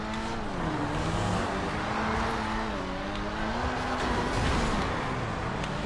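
Cars racing in GTA 5, engines revving with rising and falling whines as they pass and shift, loud and continuous throughout, with no speech.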